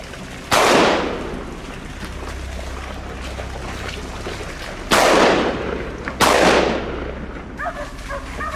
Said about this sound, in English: Startled by the gunshot, the boar bolted